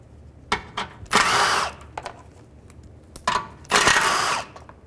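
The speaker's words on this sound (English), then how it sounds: "take these three 10mm bolts out. Just use a 10mm socket." A power ratchet or drill-driven 10mm socket spins out 10mm bolts on a 2011-2017 Chrysler 200 during water pump replacement, with two loud whirring bursts, each lasting about a second, amid small clicks and clunks.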